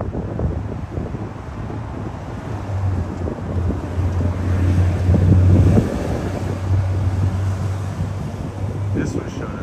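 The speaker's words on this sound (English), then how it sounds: "we do have some wind" Steady outdoor wind buffets the microphone in a continuous low roar that swells in the middle, with a low steady hum running beneath and faint talk in places.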